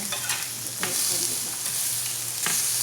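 A homemade meat hamburger patty grilling in a hot pan, giving a steady close sizzle and crackle with a few scraping turns of a spatula and no talking.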